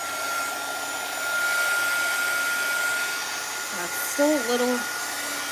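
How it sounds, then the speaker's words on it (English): A hair dryer whirs steadily as it blows over a shaker box assembly, a constant close airflow that swells briefly in the middle while a person speaks a few words over it. "I might have to hit this with the dryer and see if we can get it to dry quicker."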